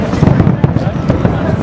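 Fireworks set off in New York City: a rapid, dense barrage of sharp bangs and crackles, loud and continuous with overlapping bursts, and people talking faintly underneath.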